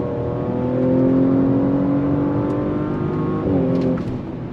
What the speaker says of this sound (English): We're gonna go on throttle again from a dead stop.